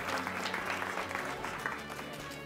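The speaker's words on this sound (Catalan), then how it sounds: "Aplaudiments." Studio audience applauding on a school quiz show, a steady wash of many hands clapping, fairly soft and continuous, with faint murmurs underneath.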